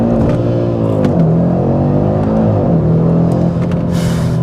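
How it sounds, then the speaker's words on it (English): A 2022 Audi RS3 saloon's five-cylinder engine revving hard in gear toward the limiter: a loud, close, continuous rasping drone with rising and falling pitch sweeps, no talk. "if you do rev the car out in one of the gears, it will hit the limiter and it will stay there"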